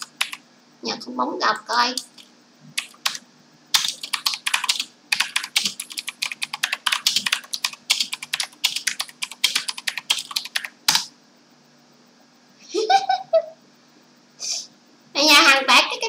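Computer keyboard typing picked up through a microphone during a Dead by Daylight session, rapid clattering keystrokes in dense bursts, fairly close and clear, with a voice talking at the start and end.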